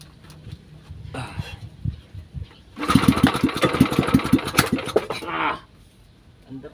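A small engine cranks with a few sputters, then catches and runs roughly with a rapid, loud, throbbing putter for a few seconds before cutting out.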